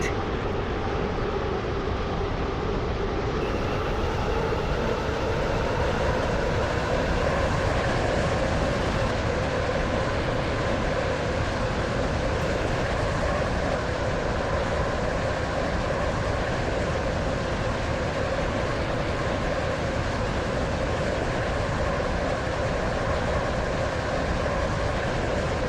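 A Stepford Connect train from a video game hums steadily along the line, a continuous even drone with a slowly rising motor tone, heard from on board.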